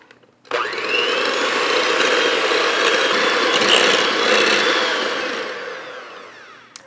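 Electric hand mixer whirring as it beats sugar into cake batter for German milk slice, a steady close mechanical whir that starts abruptly and holds for several seconds before slowly fading out.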